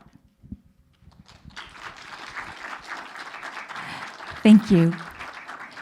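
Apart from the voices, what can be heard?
audience applause welcoming guests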